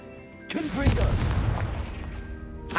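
A Confringo fire spell blast in Hogwarts Legacy: a brief voice is followed by a deep, rumbling boom with a long roaring tail, then a sharp new burst begins at the very end.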